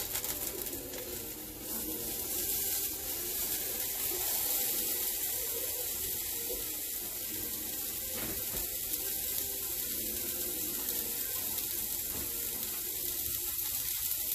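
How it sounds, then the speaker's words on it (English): Frozen sausage frying in a hot pan for a make-ahead breakfast casserole, giving a steady, even sizzle that holds for the whole stretch with no talking. "Now that it's nice and hot, I'm going to go ahead and dump my sausage."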